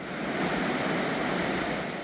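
A small coastal waterfall on the Blue Road in Yeongdeok pours straight into the sea, giving a continuous broad rushing wash mixed with surf and some wind.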